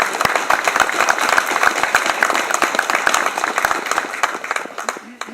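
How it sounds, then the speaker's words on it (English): A crowd at a Veterans Day ceremony in Tinley Park applauds the Boy Scouts. The clapping is loud and crisp with individual claps standing out, fading slightly toward the end. "a round of applause for our Boy Scouts"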